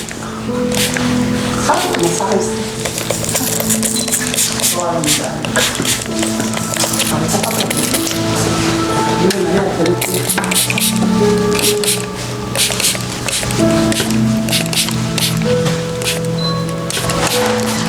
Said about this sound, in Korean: 중화는 분무 중화로 간편하게 사용할게요.